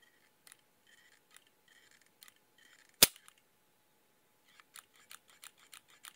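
An Apex Tactical trigger on a Smith & Wesson M&P pistol makes faint gritty clicks and scrapes, then one sharp loud snap as it breaks, followed by a series of crisp mechanical clicks, all close up and quiet.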